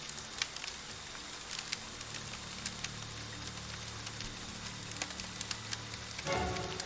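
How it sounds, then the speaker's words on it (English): Steady rain falls in the Friday the 13th video game, a soft continuous hiss with scattered drop taps, fairly faint and uninterrupted, ending in a brief low rumble. "We'll just listen to the rain."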